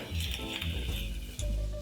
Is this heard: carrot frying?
yes